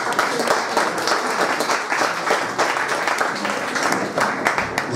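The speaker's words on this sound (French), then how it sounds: "Applaudissements," A conference audience applauds steadily for the full stretch, a dense, even wash of many hands clapping in a hall, with no voices rising above it.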